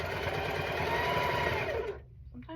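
A sewing machine runs steadily while stitching a quilt block, its motor whirring with a rapid mechanical pulse for about two seconds before stopping abruptly, followed by faint clicks and a short tonal sound.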